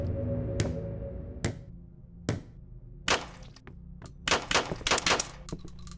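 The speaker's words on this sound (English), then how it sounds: "I shot you with all my bullets." Video game gunfire cracks out as a handful of sharp, separate shots spaced across a few seconds, followed by a quicker cluster of bursts near the end, set against a quiet low background.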